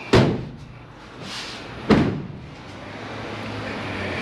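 Two solid door thuds from a 2019 Vauxhall Combo van, a sharp slam near the start and another about two seconds later, with quieter rustling between and after them.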